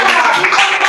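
A class of students clapping together in a classroom during a mathematics lesson, a short steady burst of hand claps filling the whole moment with mixed voices.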